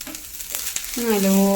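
Curry leaves and dried red chillies crackle in hot oil in a pan, a brief spitting fry that gives way to a steady, sustained tonal whine over the sizzle.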